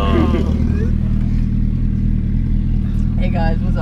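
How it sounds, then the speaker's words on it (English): A Suzuki Hayabusa motorcycle engine runs loud and steady at close range with a deep, constant drone, and voices talk over it throughout. "He's going to rev bomb this thing."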